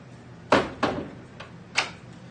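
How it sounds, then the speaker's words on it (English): A wicket door is opened by turning its key knob on a steel lock set: a few sharp, close clicks and knocks of the latch and handle in quick succession, with quiet between them. "turning the key knob and pulling the door outwards, giving you access into the room"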